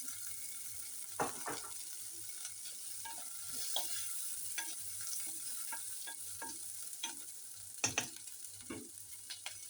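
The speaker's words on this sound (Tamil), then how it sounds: "கொஞ்சம் நேரம் வதங்கட்டு" Red chillies sautéing in a pan, a soft continuous sizzle with intermittent stirring scrapes and spoon knocks, close and fairly quiet, with no talking.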